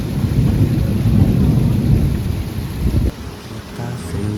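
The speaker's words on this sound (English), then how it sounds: "I truly have never experienced rain this aggressive." Heavy, almost horizontal rain in Florida pounds down steadily in a loud, dense roar, with gusting wind pushing it in surges; no voices are heard.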